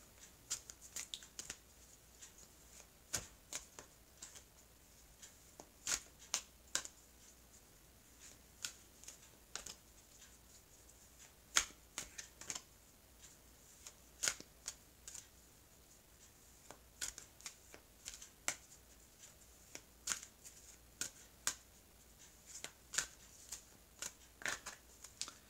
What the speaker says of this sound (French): je vais étaler les cartes, je vais couper, étaler.